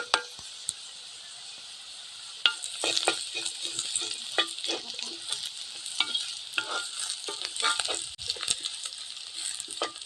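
Garlic sizzling and frying in a pan as the base for Tamil-style raw mango rice, with steady crackling spits, intermittent stirring scrapes, and no talk over it.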